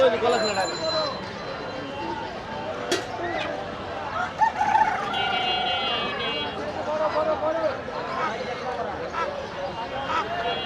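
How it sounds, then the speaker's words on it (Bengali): Native chickens at a busy weekly village market in Bangladesh, with occasional clucks and a crow rising from a constant crowd hubbub of overlapping voices. "এখানে দেশি মুরগি দেখতে পাচ্ছি,"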